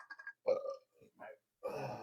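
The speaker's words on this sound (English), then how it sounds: "If I can burp one more time" A person burps during an eating challenge, with a few short throaty vocal bursts followed by a louder, longer rumbling belch at the end, fairly close and quiet overall.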